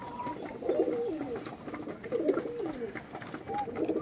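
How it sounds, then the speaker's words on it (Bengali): Pigeons in a loft coo in repeated low, rolling phrases, with several birds calling close by at a moderate level over a faint background of other bird sounds. "দেখুন এই হচ্ছিল বন্ধু তোমার পায়রা"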